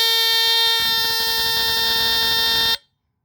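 Vintage Hudson Mfg Co Security fire alarm Model No 200, a DC squealer triggered by push button, gives a loud continuous high-pitched shrill tone for under three seconds before cutting off abruptly.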